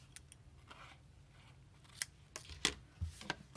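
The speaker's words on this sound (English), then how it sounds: "Then I will trim my ends with my paper snips" Paper snips trimming ribbon ends while making a hedgehog greeting card, a few crisp, quiet close-up snips spaced irregularly against a faint room background.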